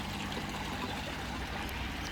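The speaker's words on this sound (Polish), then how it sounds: "O, tu nawet taka fajna fontanna leci z wodą." Water splashing steadily from a garden fountain among ponds in an arboretum, a soft continuous hiss and patter at moderate distance with no voices.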